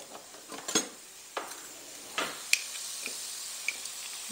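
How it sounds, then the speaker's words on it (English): Two cloves of minced garlic go into a sautéing pan for vegan taco nachos, bringing a soft, steady sizzle with a few sharp clicks and taps from utensils, close by and no talk. "I'm going to add 2 cloves of minced garlic."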